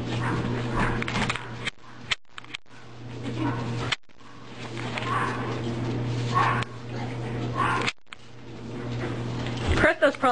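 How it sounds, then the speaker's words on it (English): A dog barks in short, repeated bursts separated by brief pauses, with some whimpering yips, heard fairly close over a steady low hum and background noise. "That's the only reason I could think Max is barking for"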